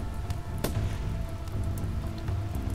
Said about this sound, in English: Oh, good, rain.